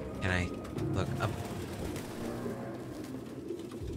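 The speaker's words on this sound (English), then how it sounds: "Birds." Pigeons or doves coo nearby in soft, low repeated calls, with a brief chirp early on, over steady outdoor background noise.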